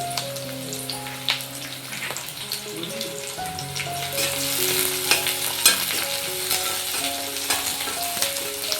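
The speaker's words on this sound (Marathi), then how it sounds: "चांगला कांदा तांबूस होईपर्यंत मी परतून घेते।" Onions sizzle and fry in a pan while being stirred until golden for a Makar Sankranti bhogi vegetable dish, a steady crackle with occasional scraping strokes, under background music.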